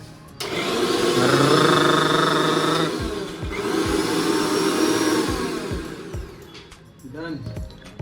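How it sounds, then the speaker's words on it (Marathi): A mixer grinder whirs loudly and steadily, pausing briefly midway before running again, with speech faintly beneath and a few knocks near the end. "नाद मिक्सर मध्ये आम्ही आता बारीक करतोय हळूहळू"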